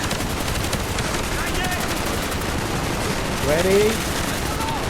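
Gunfire in Call of Duty Black Ops (2010) plays as sustained rapid automatic fire, a dense rattling barrage that continues throughout with a louder burst near the end, while a voice speaks briefly over it.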